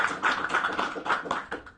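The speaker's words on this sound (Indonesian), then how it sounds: "Tepuk tangan sekali lagi untuk bapak-bapak" Applause from a business seminar audience for the gentlemen being honored, a dense run of hand claps at steady moderate loudness throughout, indoors.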